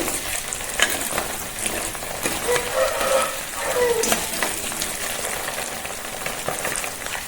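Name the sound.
eggs frying in oil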